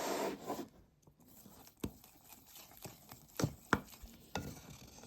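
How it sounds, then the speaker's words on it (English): A chopstick stirs down a sourdough starter in a series of soft, sticky scrapes and irregular taps against the container, quiet and close, with brief gaps between strokes. "So, chopstick. Stir her down."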